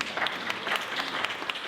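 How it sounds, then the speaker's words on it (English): Audience applause at a mayor and town council candidate forum in Juno Beach, a moderate, steady patter of many hands clapping with a few sharper claps, somewhat distant. "That one was not when you were supposed to applaud for."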